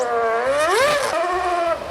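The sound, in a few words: Formula 1 car V8 engine on street circuit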